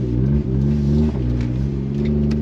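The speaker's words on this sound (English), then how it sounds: "let's drive the Suzuki Alto Works" A Suzuki Alto Works car drives along with a steady, loud mid-pitched engine hum and a continuous low rumble, its revs dipping briefly twice as gears shift, with no voices.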